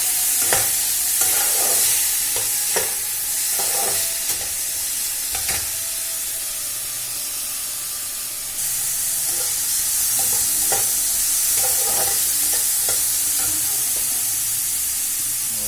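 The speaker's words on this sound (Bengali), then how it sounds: "এবার একটু ভালো করে ভেজে নেব" Small pieces of star fruit (carambola) sizzle in hot oil in a pan, with repeated scraping stirs of a spatula over a constant loud frying hiss.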